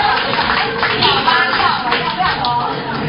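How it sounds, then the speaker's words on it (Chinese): A crosstalk audience at Guangmingge applauds as three performers come on stage, a dense burst of clapping from many hands, loud and close, running the whole moment with a few voices mixed in. "掌声有请。"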